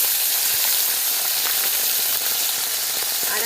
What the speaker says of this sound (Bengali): টাটকা টাটকা মাছ দিয়ে দিচ্ছি। এই কই মাছ ভাজাও ভালো লাগে।